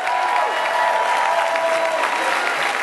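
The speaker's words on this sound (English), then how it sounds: "Look around and clap." Audience at a 5LINX home business presentation applauds in a steady, dense wash of clapping that fills the whole stretch, with a faint murmur of the crowd underneath.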